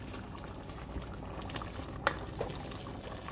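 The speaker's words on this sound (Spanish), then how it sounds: "cocinando la carne para la lasaña" Meat for lasagna cooks in a pot with a soft, steady bubbling and sizzle, close and low in level, with a couple of faint clinks.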